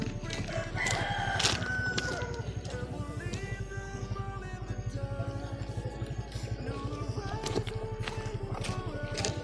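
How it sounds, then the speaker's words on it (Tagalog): Roosters crow and many white chickens cluck over a steady low mechanical throb, the crowing rising now and then above the background. "May maraming manok, mga puti."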